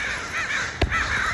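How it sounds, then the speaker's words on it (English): A crow caws repeatedly outdoors, harsh rasping calls in quick succession, with a single brief thump partway through. "I find those crows to be very creepy."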